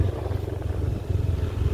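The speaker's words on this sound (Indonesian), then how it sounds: "Ada motor juga di depan, harus pelan-pelan." A motorcycle engine drones steadily nearby on a winding, patched mountain road, a low rumbling hum that holds evenly throughout with no voices.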